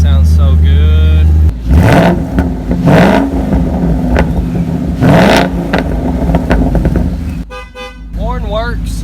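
A 2017 Ford Mustang GT V8 being rebuilt after a wreck cranks, fires and revs loudly up close, its rumble rising and falling through several throttle blips, with a brief rapid burst near the end.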